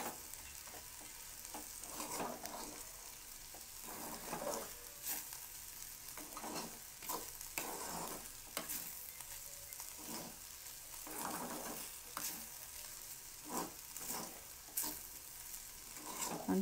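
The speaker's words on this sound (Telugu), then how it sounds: "బాగా కలిసిపోయేటట్టు బాగా తిప్పండి." Okra frying in a pan with chili powder, stirred repeatedly, giving a continuous soft sizzle broken by regular scraping strokes of the spatula over about seventeen seconds, no voices.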